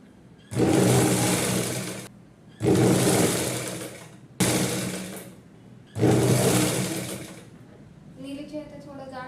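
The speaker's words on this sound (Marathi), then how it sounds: "आता सग पुन्हा ही सर्व बाजूने शिवून घेते" A sewing machine stitches a Rajalaxmi nauvari saree in four loud, steady bursts of about one to two seconds each, separated by brief pauses, with a voice speaking briefly at the end.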